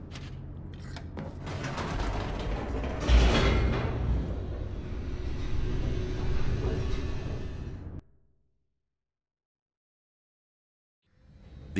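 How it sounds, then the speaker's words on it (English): Elevator descending in The Stanley Parable, a loud rumbling mechanical rush with creaks and grinding for about eight seconds, a heavy jolt partway through, then abrupt silence before a faint return at the end. "The elevator raced downward,"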